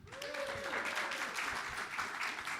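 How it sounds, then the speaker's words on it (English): Modest audience applause after a film screening at a small Glasgow venue, a continuous patter of clapping at moderate distance, with a faint tonal sweep near the start. "can I get a round of applause from the audience if you've enjoyed tonight's film?"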